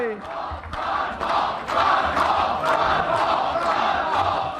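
A large crowd at a 2012 Iowa campaign rally cheers and chants, a dense roar with rhythmic shouted bursts that holds steady and loud throughout.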